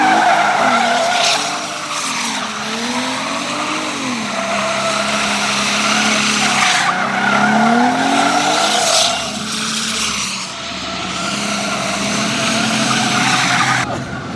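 Tires skidding and burning rubber on a car in a racing game, a loud sustained squeal with wavering engine revs throughout, no talk over it.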